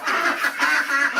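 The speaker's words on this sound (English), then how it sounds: "raspy quack" Low, raspy quacks from a male Khaki Campbell duck, several soft hoarse calls in a loose rhythm, close by and quiet, with no other sound.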